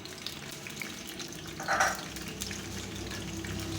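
Ground garlic frying and browning in a pan for a moringa (sohanjna) dish, a steady close sizzle with a brief louder hiss and crackle partway through, no talking.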